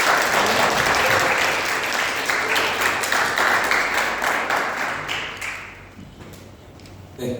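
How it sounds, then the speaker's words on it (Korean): A Sunday-worship congregation at a Korean church in Bali claps in blessing. The warm, steady applause is strongest at first, then thins and fades over the last couple of seconds. "우리 축복의 박수를 할까요?"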